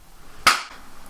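A single sharp hand clap rings out close by in a quiet room during an at-home science experiment, one isolated crack followed by a brief fade and no talking.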